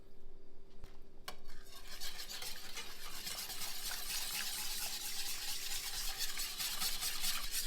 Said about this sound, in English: And whisk all the lumps out